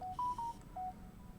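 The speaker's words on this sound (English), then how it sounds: "Why is my phone making a noise?" A phone gives a short electronic notification of four clear beeps at slightly varying pitches in quick succession, quiet and close in an otherwise still room.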